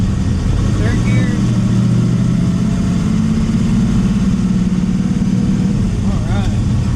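Steady, loud engine drone from a 1968 Chevrolet Nova SS with a Hurst 4-speed as it is shifted into third gear, running continuously under a voice.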